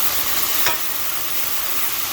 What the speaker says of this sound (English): So now I'm adding a little water to deglaze the pan.